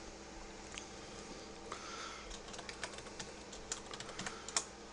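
A folder name is typed on a computer keyboard, with quiet, irregular clicking keystrokes that pick up into a brisker run of taps, recorded close and faint against a soft background hiss.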